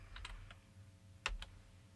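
A handful of quiet keystrokes on a computer keyboard, faint and irregular, with one slightly louder tap near the middle.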